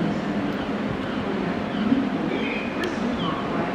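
A Class 175 diesel passenger train bound for Manchester Piccadilly via Shrewsbury passes near Cardiff, giving a steady broad rumble and rolling noise at moderate distance with no talking.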